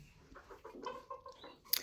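Soft, brief clucking from a few silver laced hens close by, quiet murmuring notes ending with a sharper rustle.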